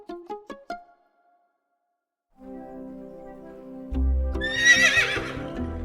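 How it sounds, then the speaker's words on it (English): A horse gives a loud whinny that rises into a shrill, wavering neigh, preceded by a few short snorting notes and a brief pause, with no talk. "This is a horse."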